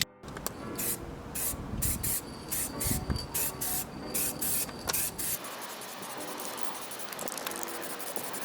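Aerosol can spraying a first coat of black paint onto the exterior plastics of a Ford Fiesta MK6, in repeated short hissing bursts with brief pauses, then one longer continuous spray, close and fairly quiet.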